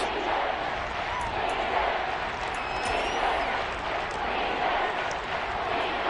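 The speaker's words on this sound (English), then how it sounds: "Crowd getting in it a bit already." A stadium crowd at a football game keeps up a steady, dense roar of cheering and noise, with a commentator talking over it throughout.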